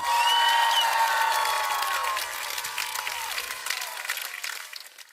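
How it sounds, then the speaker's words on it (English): Applause and cheering for a Raptors Summer League MVP, a broad wash of crowd noise with clapping and some whistles, strong at first and then fading gradually. "Now, let's all give him a round of applause."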